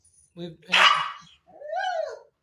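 An old dog at the foot of a staircase gives a couple of short, close barks and yips, with a person's voice heard between them.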